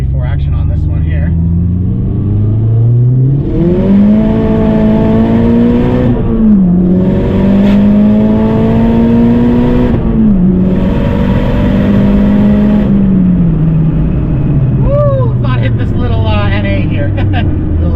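A fully tuned Mazdaspeed 3 pulls hard through second, third and fourth gear, its engine rising in pitch with loud rumbling drone, dipping at each shift, heard from inside the car with scattered talk.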